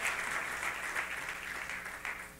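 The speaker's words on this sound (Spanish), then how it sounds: "Dele fuerte el aplauso al Dios de los cielos." Congregation applauding at a Christian church service, a steady wash of clapping from many hands filling the room, fairly loud and unbroken for a couple of seconds.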